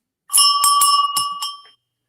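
A bright bell rings in about five quick strikes, close and clear, with the ringing tone fading out at the end and no talking.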